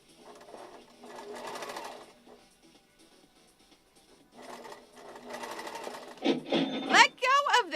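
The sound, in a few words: sewing machine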